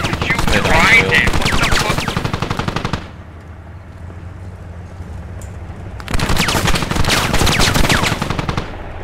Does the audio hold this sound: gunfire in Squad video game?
yes